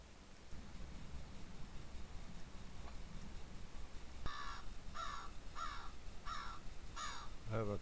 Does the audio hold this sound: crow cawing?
yes